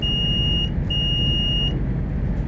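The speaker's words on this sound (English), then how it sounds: "the guard blows, gives 2 rings on the buzzer, then you repeat it again back" Two rings of a train buzzer signal between guard and driver in a Train Simulator 2019 Crewe to Holyhead run, two steady electronic tones over a constant low engine rumble, with no speech.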